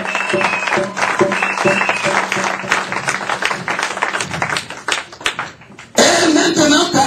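A church congregation claps and cheers for the Lord in a loud, dense burst of applause mixed with voices, dipping briefly before swelling again at the end.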